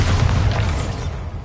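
Bombarda explosion spell in the video game Hogwarts Legacy, a single loud, deep blast that booms close and then rumbles and fades over about a second.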